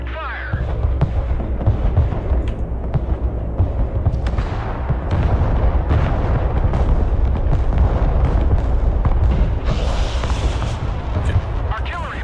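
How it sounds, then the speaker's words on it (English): Rocket artillery firing in the Broken Arrow war game, a loud, dense, continuous roar of launches and blasts that rumbles without break throughout. "Rocket artillery at your command."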